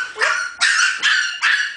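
Several puppies bark in quick succession at feeding time, four sharp, high yips spaced roughly evenly, close by and loud with no talk over them.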